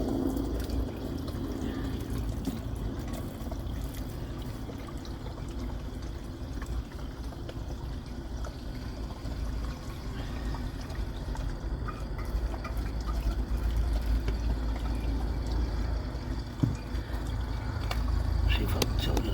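Water runs continuously from a hose into a tank for a long stretch, a steady rushing flow with a low rumble behind it.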